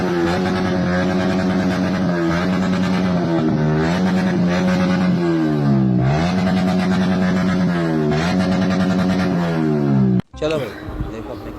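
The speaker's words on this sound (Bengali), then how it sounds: "ভাই আমার গাড়িটা ফাঁসে থাকা" A car that is stuck has its engine revving hard and close, with the pitch rising and falling in repeated surges under background voices. The revving cuts off near the end.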